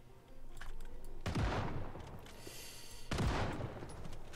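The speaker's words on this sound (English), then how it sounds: "The sawed-off shotgun. One of the best weapons in the game" Two loud, close sawed-off shotgun blasts fire about two seconds apart in the zombie survival game Project Zomboid, each with a sharp crack and a short, ringing decay.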